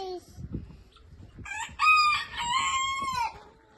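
A feather-footed rooster crows loudly and close by in a village, a drawn-out cock-a-doodle-doo following a few short clucks.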